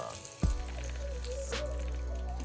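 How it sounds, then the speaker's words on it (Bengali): Bay leaves drop into hot oil in a wok, giving one sharp clack followed by a steady, close hiss of frying that carries on evenly, with nobody speaking. "কড়াইতে পড়ে গেল তেজপাতা"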